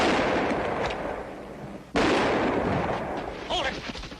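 Three gunshots in a Bonanza western episode, loud sharp cracks echoing outdoors, spread over a few seconds with rumbling tails, amid voices.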